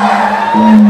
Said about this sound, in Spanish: ¿Y dónde está el grito de las mujeres solteras?